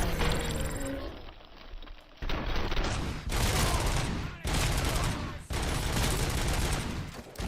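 Gunfire from a 55-round magazine weapon in a RoboCop video game comes in loud, dense bursts. Three or four long sustained volleys are split by short gaps, with a lone mechanical click near the start.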